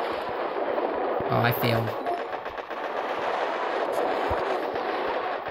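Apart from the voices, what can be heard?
cannon and tank fire in Boom Beach video game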